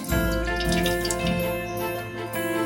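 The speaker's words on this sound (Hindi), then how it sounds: "ये सबसे पहले हम अपनी पतीली में डालेंगे कुकिंग ऑयल" One cup of cooking oil pours into a cooking pot, a steady, close liquid stream lasting the whole moment with no talk over it.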